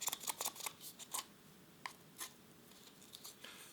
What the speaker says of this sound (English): I have a pair of scissors to do that right here.